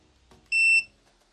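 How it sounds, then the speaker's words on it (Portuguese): A multimeter in continuity-test mode gives one quick, loud, clear electronic beep lasting about a third of a second when its probes touch, standing alone against near silence. "Mal encosto e ele dá um bip rápido e alto."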